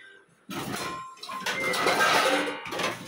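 A dishwasher rack on a Midea Torrino 13-place dishwasher slides and rattles along its runners with clattering dishware, a drawn-out scraping push followed by a brief pause and more rattling.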